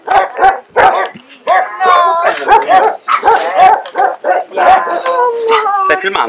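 Puppies at a dog shelter in Gonnosfanadiga yip, bark, whimper and howl in a busy overlapping chorus, close and loud, with people talking among the animals.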